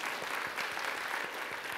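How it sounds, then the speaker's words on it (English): An audience claps steadily for a short stretch, dense and even applause at a strong, consistent level with no voices standing out. "Give her a round of applause for her courage."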